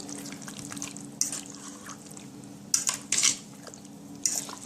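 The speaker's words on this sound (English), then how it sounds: "So as you can see, I'm just mixing everything right here." Seasoned stew beef being mixed by hand in a bowl, giving soft wet squelching and slapping bursts at irregular intervals over a steady low hum, close and fairly quiet.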